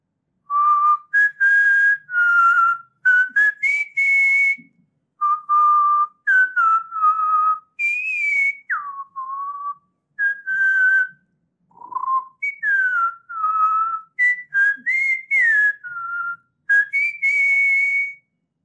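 A person whistles an imitation of the Malabar whistling thrush's song, with clear tuneful phrases that ramble up and down in pitch, sounding in short bursts separated by brief pauses, close and alone without speech.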